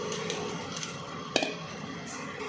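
A metal spoon scrapes and clinks in a cooking pot while biryani masala powder is stirred into chicken biryani, with soft scraping, a few light taps and one sharper clank, close and alone.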